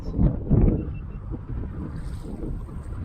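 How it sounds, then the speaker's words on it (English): Wind buffets the microphone on a pedal kayak out on the water while trolling for trout, a low rumbling gust with two stronger bursts early on that then settles into a steady rush. "The wind wants to turn me in, bow into the wind"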